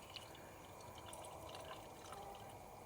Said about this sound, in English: let's pour our liquid moly in first